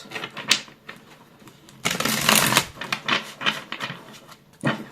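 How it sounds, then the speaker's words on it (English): Tarot cards are shuffled by hand in quick riffles and soft slaps, with a longer rustling cascade in the middle and scattered crisp card taps around it, close and fairly loud. "I'm gonna shuffle the second card"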